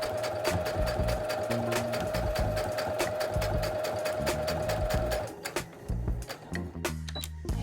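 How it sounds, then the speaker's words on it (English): A sewing machine stitches a mug rug in a steady, rapid mechanical chatter, loud and close, then slows into shorter stop-start bursts toward the end. "it's going to sew then a perfect little even stitch right there"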